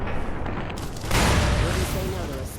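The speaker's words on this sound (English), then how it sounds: "Seriously, guys, stop with those grenades." Grenade explosions in the Fallout: New Vegas battle at Hoover Dam, a loud booming burst with rumbling gunfire around it, heavy and close.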